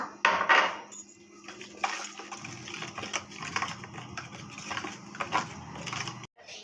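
A spoon stirs milk into watermelon juice, giving faint, irregular clinks and scrapes against the container, quiet and close.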